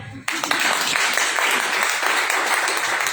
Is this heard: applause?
yes